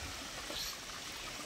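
Natural mountain water flows and trickles steadily with no pump, a soft, faint, continuous babble over a brief moment.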